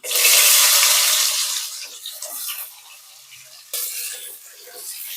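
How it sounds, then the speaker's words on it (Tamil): A loud hiss of shallots hitting hot oil in a pan settles into a steady sizzle as they sauté, stirred close by, with a brief scrape midway. "இது நல்லா வதங்கட்டும்"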